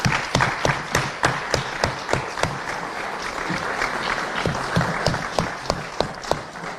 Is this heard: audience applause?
yes